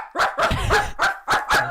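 A man imitates a dog with deep, gruff barks, five or six loud woofs in two quick bursts with short pauses between them, close to the microphone.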